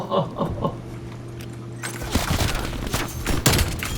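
A .410 Ironhide shotgun in Call of Duty: Black Ops Cold War, several sharp close shots fired in quick succession in the second half, after a quieter stretch of game ambience.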